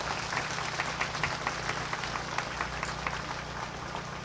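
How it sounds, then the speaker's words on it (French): A church congregation claps together, a faint, steady patter of applause heard from a distance under a low background hum. "Alors applaudissez s'il vous plaît."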